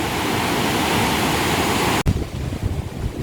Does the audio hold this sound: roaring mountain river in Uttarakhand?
yes